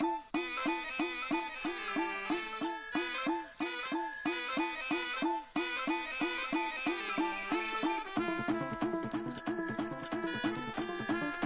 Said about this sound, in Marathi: एवढा ठणाना ठणाना घंटी वाजवालोय सायकलची